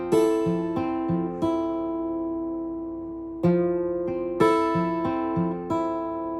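A jazz chord on guitar, played slowly at half speed with its notes picked one at a time. Clear plucked tones ring out in short groups, with a longer held pause in the middle before the picking resumes.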